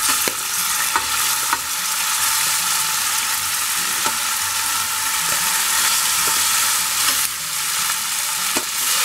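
Cooked rice being stirred into tamarind paste for Andhra-style pulihora, a steady scraping and stirring with soft sizzle-like texture and a few sharp clinks of the spoon against the pan, continuous and close, with no talking.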